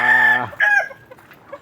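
A rooster crows loudly and close at a chicken farm, one long harmonic call followed by a shorter crow and soft clucking from other chickens in the background.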